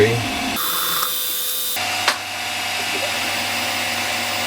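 A power drill with a small bit, making a hole for an M3 thread in a lathe steady head part, whirs steadily, shifting pitch as it bites into the material, with a brief sharp click partway through; the drilling runs continuously.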